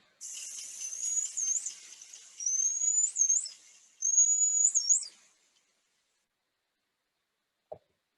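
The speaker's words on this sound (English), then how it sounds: "So this is an example of a signature whistle." Three high, clear rising-and-falling dolphin signature whistles repeat in close succession, each a similar contour, followed by silence and a faint click.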